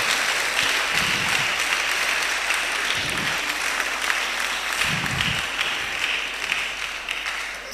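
A large audience at a public speaking competition claps steadily and loudly throughout, with a few low thumps and bumps mixed into the continuous applause.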